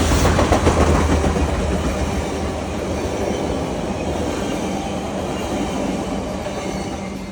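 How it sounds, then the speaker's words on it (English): A train rumbles past close by, a steady loud roar of wheels on rails with faint clacking, holding strong throughout. "here comes the train"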